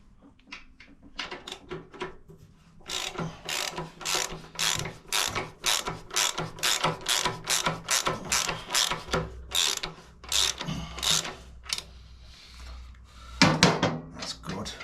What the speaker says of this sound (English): I think I'll be better with a socket on there.